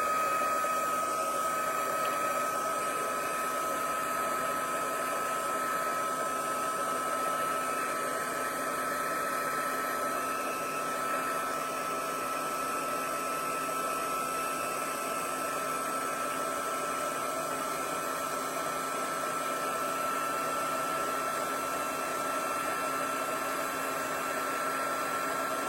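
A heat tool blows hot air over paper crafting work, a steady, even whooshing whir that holds unchanged at close range for the whole stretch, with no talking.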